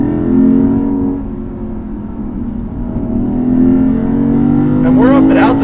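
A Lexus IS500 sedan's naturally aspirated V8 holds a steady, loud, close-up drone under acceleration, swelling toward the end with a sharper rising rev.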